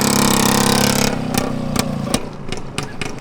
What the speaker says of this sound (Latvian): Es pirmo reizi tādu moci dzirdu